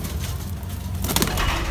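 Madrasi pigeons coo in a continuous, low rumbling murmur, close and fairly loud, with a flutter of brighter sound toward the end.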